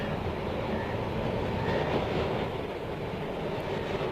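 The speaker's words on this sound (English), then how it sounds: "During his visit, Jeff Todd captured all the atmosphere of this bustling tramway, with its fleet of 64 virtually identical vehicles" A Karachi tram runs along its line with a steady, loud rumble and rolling rail noise that holds even throughout, with no voices.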